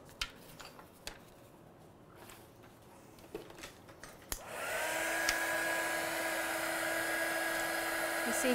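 A craft heat tool switches on midway and blows with a loud, steady whirring roar while heat-setting stamped ink, after a stretch of quiet rustling and small handling taps.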